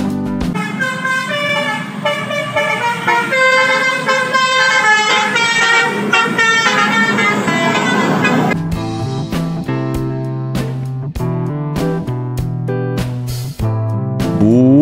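Loud, close musical Telolet horn on the Kalebas Al-Hajj bus, a dense tootling melody for about eight seconds, then a choppier run of short punchy horn blasts, with nobody speaking.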